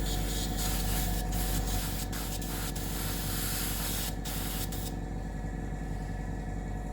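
A continuous, loud hiss of a spray gun or aerosol spraying paint up close, steady for several seconds with a few brief clicks.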